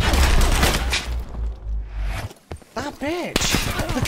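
Gunfire in Call of Duty Black Ops 4 multiplayer: dense, loud bursts of shooting for about two seconds, a quieter gap, then more shots mixed with other game sounds and a voice.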